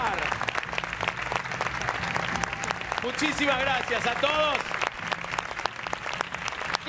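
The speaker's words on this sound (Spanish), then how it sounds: "el aplauso para la familia que vino a bancar" Studio audience at a televised quiz show final applauds the contestant's family, a dense steady clapping that fills the whole stretch while someone speaks over it briefly.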